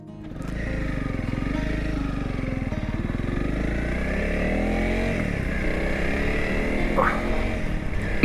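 A brand-new Honda CRF 300L Rally motorcycle riding along B roads, its single-cylinder engine droning steadily and close with gentle rises in pitch as it accelerates, plus wind rush throughout.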